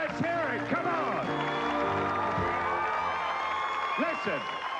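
A studio audience greets film stars Janet Leigh and Tony Perkins with sustained, loud applause at a televised special, with enthusiastic whoops and cheering voices rising over the clapping throughout.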